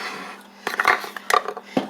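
Metal bread machine pan being picked up and set down in a home kitchen: a few short, close clanks and knocks scattered over a couple of seconds against a quiet background.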